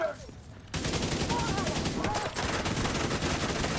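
Gunfire in a video game breaks out suddenly as a dense, sustained barrage of rapid shots, loud and continuous after a brief quieter start, with some talk underneath.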